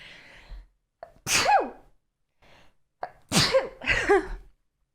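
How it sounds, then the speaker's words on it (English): Several sharp, explosive sneezes burst out close to the microphone, one early and two back-to-back near the end, each preceded by a short sharp inhale. "Try not to sneeze right now."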